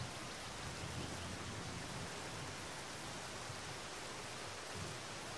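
Steady, dense rain hisses evenly in the video game Zero Sievert, a faint, continuous wash with no breaks or voices.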